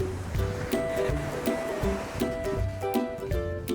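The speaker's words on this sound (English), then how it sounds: "Always lovely here in the crashing of the waves up on the shore here." Surf at Gulf Shores beach in Alabama, a steady broadband wash of waves breaking and running up the shore, with recurring swells and a continuous hiss close by and no speech.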